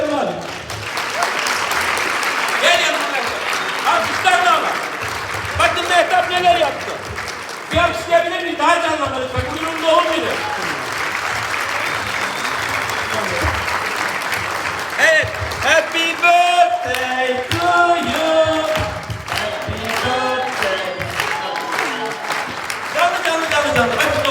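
At a Turkish gathering, the audience applauds a woman's birthday with long, sustained clapping. Voices call out and talk loudly on top of it throughout, rising in bursts.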